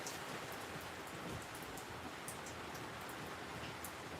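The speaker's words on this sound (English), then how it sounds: "There's a lot of rain." Heavy rain pours steadily, a dense even hiss with scattered droplet patter, close and continuous with no voices over it.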